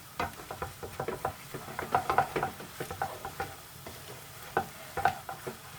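Whole spices crackle and pop while being stirred and roasted in a hot pan for chicken pathia, with irregular scraping and rattling taps close by.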